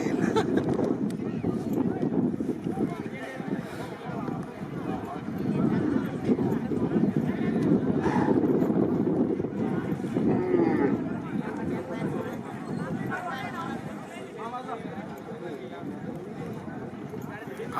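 Bullocks pound along in a bullock cart race at a village race ground, hoofbeats and rattling carts rumbling beneath a loud, dense crowd roar and shouting for the whole stretch.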